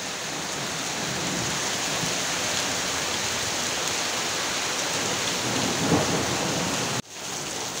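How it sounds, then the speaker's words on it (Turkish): A heavy hailstorm with rain and thunder pounds down in Elazığ, Turkey: a dense, continuous roar of precipitation hitting surfaces with rumbling swells, loud and close, with a brief cut near the end. "Dün dolu yağdı, bugün yine dolu yağdı."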